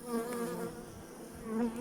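Many honeybees buzz close by from an opened hive in late November, a dense, wavering hum that swells and dips, with no voices.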